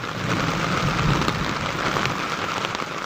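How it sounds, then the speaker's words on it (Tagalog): Heavy rain pours steadily on a rainy afternoon in Laguna during rainy season, a dense, constant hiss of drops drumming on surfaces with no talk, loud and close throughout. "Yan, lakas na naman ang ulan dito sa amin."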